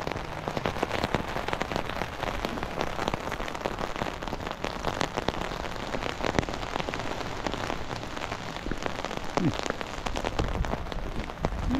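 Steady rain patters on the ground and surfaces outdoors during a walk along a street, a dense continuous hiss of drops with no voices.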